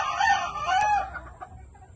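A gamecock rooster with freshly trimmed spurs crows once, close and loud, its call rising and then trailing off, followed by a few softer clucks.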